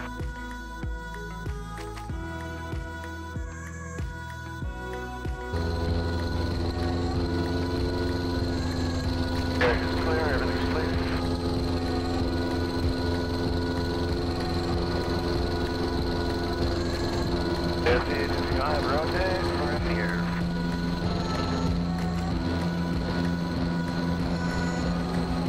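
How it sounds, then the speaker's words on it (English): A Lake Buccaneer seaplane takes off from the water, its engine rising to a loud, steady drone with a continuous hum and rushing noise throughout. "All right, we're going to go ahead and we'll take off."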